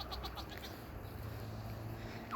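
Goats bleat on a garden nursery farm, a quick run of short, faint cries near the start over a quiet outdoor hum, then near silence with a brief sound at the end.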